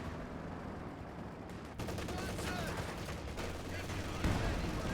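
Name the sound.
artillery barrage in Company of Heroes 2 video game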